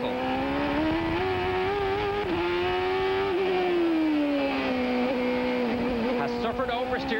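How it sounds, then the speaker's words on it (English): A CART race car lapping Laguna Seca in 1995, its engine screaming loud and close as the throttle rises and falls in long sweeps, with a commentator's voice faintly underneath. "Listen to the throttle."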